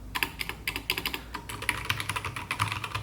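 Rapid, steady keystrokes on an AKKO MOD001 CNC aluminium mechanical keyboard, a damped, heavy board, clacking close up in an even typing rhythm throughout.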